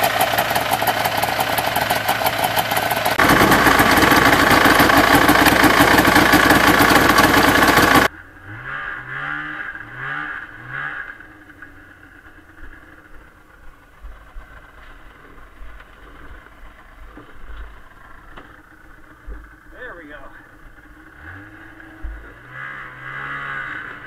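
A snowmobile engine runs loud and steady at first, then drops to a quieter, uneven idle with small throttle blips and mechanical chatter.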